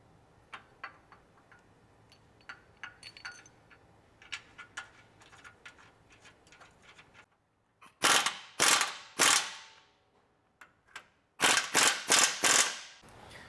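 Sway bar bolts on a Toyota Tacoma being tightened during a lift kit install: soft, scattered mechanical clicks at first, then two loud, close bursts of rapid ratchet-like clicking, each lasting over a second.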